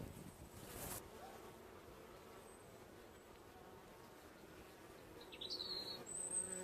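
Honeybees buzz steadily around an opened hive outdoors, a soft continuous drone with a few brief high chirps near the end and no talking.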